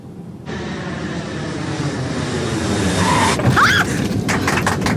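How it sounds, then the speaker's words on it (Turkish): A loud, steady airplane engine roar fills the space, building slightly in intensity before shifting to a rattling, rumbling tone as the plane lands. "Uçak indi. Genelde uçaklar böyle iner."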